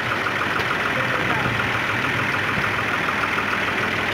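A Fiat 480 tractor runs at idle after starting, a steady dense mechanical chug that stays level and fairly close for the whole stretch, with no talk over it.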